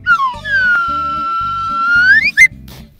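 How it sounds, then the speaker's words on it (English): A cosmic whistle is blown for a teleport in a children's show, one long sliding whistle tone that rises at the end, loud and close, over a bouncy musical beat. "let me use my cosmic whistle"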